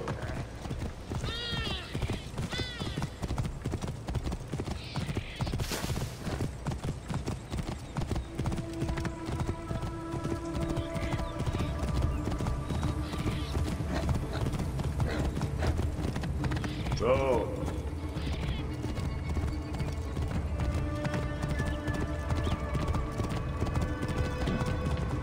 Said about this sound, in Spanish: ¿Quién es mi hermoso caballito?